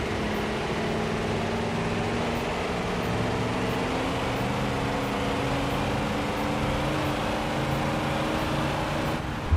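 New engine in a school bus in BeamNG.drive, a steady low rumbling drone holding a fairly constant pitch throughout, continuous and close with no talk over it.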